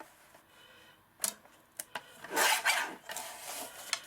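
A paper cutter trims collage paper in a few short slicing strokes, with brief rasping cuts followed by a longer, louder swipe in a quiet room.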